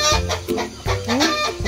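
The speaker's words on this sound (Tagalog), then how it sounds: "Ito, may manok dito dito." A chicken on a farm clucks close and loud in a quick run of short, repeated calls with brief rising notes, with no talk over it.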